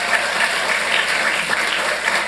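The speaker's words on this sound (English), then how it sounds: "let's give her a round of applause, please" A crowd at a Santa Ana city council meeting claps for a high school principal, a dense, sustained round of applause with no talking over it.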